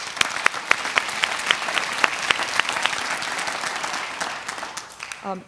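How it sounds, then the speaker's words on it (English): An audience at a landscape conservation conference applauds warmly, a dense, sustained wash of many hands clapping that carries on steadily and tapers toward the end. "So round of applause for us."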